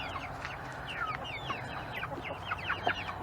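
Chickens cluck steadily around a backyard coop, with several birds giving short overlapping calls and chirps at close to moderate distance against a low background hum.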